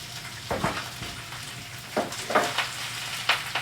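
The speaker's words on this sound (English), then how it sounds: "I'm going to throw them in there too, just to saute for a little bit" Quartered cherry tomatoes and spinach sauteing in a pan, giving a steady close sizzle with a few louder bursts of stirring and spattering at irregular intervals.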